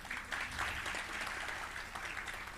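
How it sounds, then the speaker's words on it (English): Applause from a conference audience honoring the moderator, a soft, continuous patter of many hands heard faintly at a distance, with no voices over it. "let me also just take this moment to give a round of applause to Tehila, our moderator."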